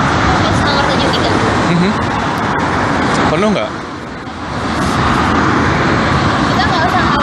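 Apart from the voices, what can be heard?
city bus number 73 arriving in Japan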